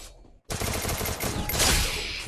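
Enemy gunfire in a shooter video game, a sustained rapid burst of automatic fire that starts abruptly after a short pause and continues loud and close to the end.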